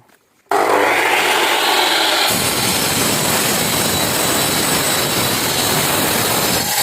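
A power saw with a large disc cuts facing brick. It starts abruptly with a loud, close, continuous whine, then the tone roughens and deepens as the blade bites into the brick and keeps grinding.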